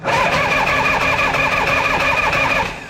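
A 1976 Harley-Davidson FLH engine starting after restoration, a close, loud, steady mechanical rumble that holds for about three seconds before easing off slightly at the end.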